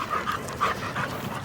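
A German shepherd pants quickly and rhythmically at close range, with several bursts of breathy huffs over a second and a half and no other voices.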